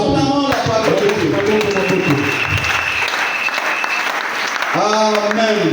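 A church congregation breaks into loud, close applause, a thick wash of clapping lasting several seconds, with a voice speaking at the start and again as it fades.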